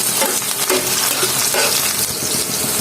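Onion and bay leaf frying in hot oil with a loud, continuous sizzle, close up, with occasional stirring scrapes in the pan.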